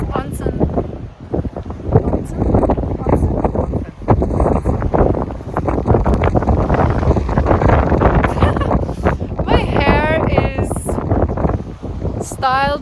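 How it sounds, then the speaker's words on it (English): Wind buffets the microphone outdoors in Numazu, Japan, with continuous loud rumbling gusts, and people talk over it throughout. "killed by the Japanese wind."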